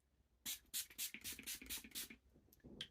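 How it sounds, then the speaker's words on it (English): An e.l.f. mattifying makeup setting spray is pumped about eight times in a quick, even rhythm of short hissing bursts, close and fairly soft in a quiet room. "Oh, some setting spray. This is a different one, this one's e.l.f., but it's still mattifying"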